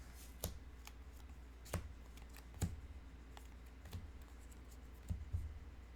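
A deck of game cards shuffled back in at a tabletop during a card game, with soft riffles and sharp clicks recurring every second or so, quiet and close.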